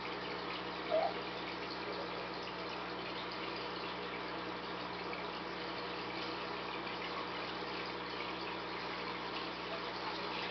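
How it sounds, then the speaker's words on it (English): Water runs steadily into a plastic box, a continuous even rushing and gushing pour that holds at the same level from start to finish, with no voices. "I'm gonna fill it with water."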